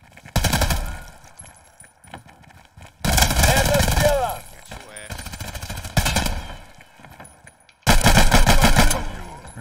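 Pistol gunfire in Hired Ops, a multiplayer shooter: loud, close bursts of rapid shots come in three dense clusters with gaps between, over game sounds and voices talking.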